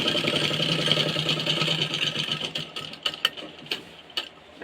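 A sewing machine running a pressure stitch on a garment hums steadily with a fast mechanical ticking, then breaks into uneven clicks and pauses toward the end.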